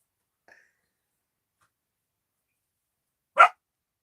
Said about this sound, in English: Hush, the dogs in the neighborhood are barking, so Miklos is upset.